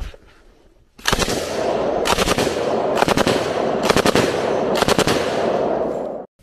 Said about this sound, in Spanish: 5 ráfagas de 3 disparos, fuego libre.